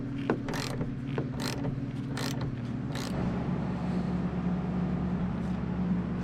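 A ratchet wrench on a 14 mm seatbelt bolt in an Acura RSX gives several short, crisp bursts of clicking over a steady low hum, then the clicks stop and the hum carries on.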